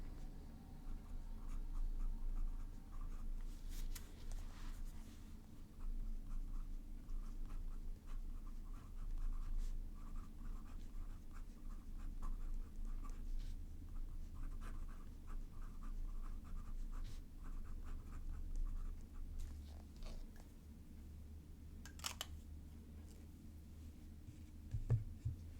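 A dip pen nib writing on paper, faint close scratchy strokes and light taps in an irregular rhythm over a low steady room hum, no talking.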